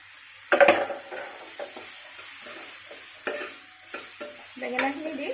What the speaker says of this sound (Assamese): এতিয়া মই ইয়াতে কাটি থোৱা বেঙেনাখিনি দি দিছোঁ।